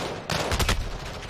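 Automatic gunfire in Call of Duty: Modern Warfare (2019) multiplayer, a dense burst of rapid shots lasting about a second, loud and close, after a brief quiet start.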